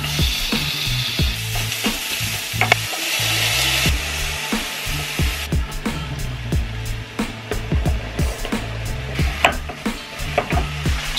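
Vegetables and beans stir-fry in a hot pan, with a steady sizzle broken by repeated scrapes and knocks of a utensil against the pan, close up and alongside music.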